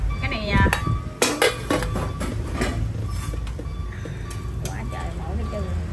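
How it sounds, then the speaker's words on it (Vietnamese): A thick stainless steel cooking pot is handled at close range, its metal clanking and scraping in sharp bursts with a few louder knocks, while people talk in the background. "Một cái nồi inox, cái nồi này nấu nồi canh ngon lành."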